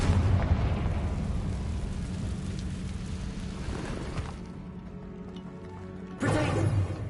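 The Confringo fire spell explodes in the Hogwarts Legacy video game, a dense roaring blast that decays into a crackling rumble before a second burst flares up near the end, loud and continuous.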